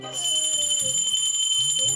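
A bell rings continuously in a household, a bright sustained metallic tone that carries under a voice talking over it.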